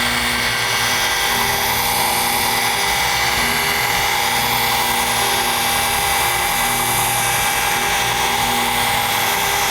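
A FLEX rotary polisher is pressed firmly onto car paint with abrasive polish to remove swirls and scratches, giving a loud, constant, high-pitched whirring drone close by with no talking.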